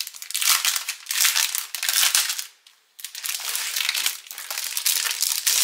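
Plastic packaging around a 30x30 scrapbooking paper collection crinkles and crushes as it is opened, with loud, continuous rustling in two bursts separated by a brief pause.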